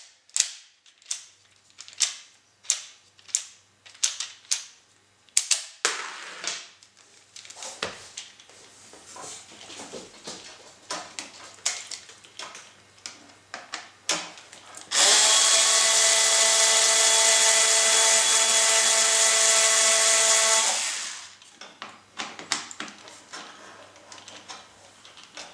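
Cordless screwdriver drives screws into a model C-47 Dakota airplane kit: a string of sharp clicking ratchet bursts, then a steady high motor whine lasting several seconds before more short clicks, close and clear without talk.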